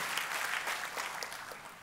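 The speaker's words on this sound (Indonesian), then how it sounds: "Kita kasih tepuk tangannya, boleh yang paling meriah buat Tuhan." A church congregation applauds enthusiastically during a worship service, a dense and steady wash of many hands clapping alone, with no talk over it, fading slightly toward the end.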